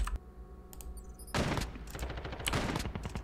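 Rapid bursts of suppressed gunfire from a video game weapon, clustered shots with a muffled, clicky character, fairly close and steady with no talk over them.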